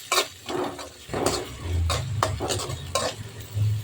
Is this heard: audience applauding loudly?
no